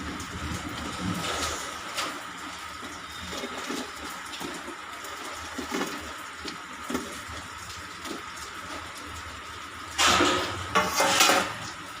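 Noodle balls for a Chinese-style manchurian are dropped into gravy in a pan and stirred, giving scattered clinks and scrapes of utensil on cookware with soft wet sounds, then a louder burst of stirring near the end.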